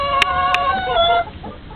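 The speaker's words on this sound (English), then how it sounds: "This is little chicken Norris, and she is the sweetest little baby in the entire world" Chickens cluck in a steady run of close, fairly loud calls with a couple of sharper squawks, the birds being fed cracked corn.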